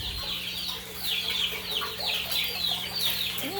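Chickens cluck in a chicken room, a busy run of close, repeated clucks and chatter over a low steady hum, with no voices.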